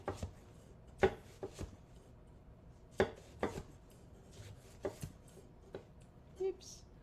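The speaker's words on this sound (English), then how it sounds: "So I'm just going to make some lemon slices." A knife cutting a lemon into slices on a cutting board, with about eight sharp, irregular thuds of the blade striking the board, close and fairly quiet.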